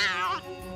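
A cartoon cat lets out one short, close meow that rises and falls in pitch, with nothing else around it.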